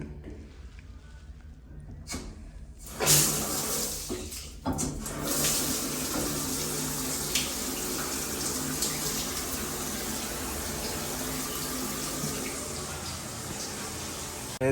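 Water runs steadily from a shower in a truck stop bathroom, a constant rushing spray after a few clunks and knocks at the start.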